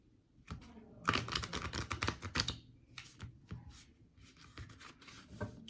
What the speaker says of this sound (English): I'll shuffle that one more time.